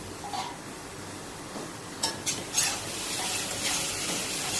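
Bottle gourd pieces drop into a simmering tomato curry in a pan, giving a few brief clattering splashes over a soft, steady background sizzle.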